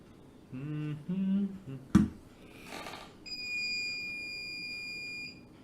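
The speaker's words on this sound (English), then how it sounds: "There is a power cut. It's beeping." An alarm sounds during a power cut with a steady, piercing electronic beep that holds for about two seconds. Before it, a voice makes brief tonal sounds, followed by a sharp knock and a short rustle.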